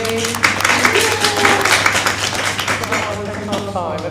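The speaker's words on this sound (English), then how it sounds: "Give yourselves a clap, everybody." Conference attendees at a health equity event applaud themselves, a moderate burst of clapping that runs under overlapping voices and loose chatter for a few seconds.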